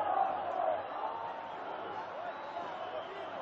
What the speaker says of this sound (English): Of the Corinthians crowd in the Maracanã Stadium.